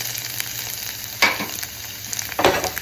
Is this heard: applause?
no